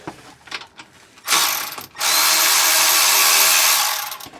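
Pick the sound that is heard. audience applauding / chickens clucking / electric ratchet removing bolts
electric ratchet removing bolts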